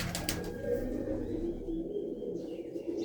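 Pigeons, a bred cock and hen pair kept in a loft, coo in low continuous murmuring notes nearby, with a few faint chirps and no clear speech.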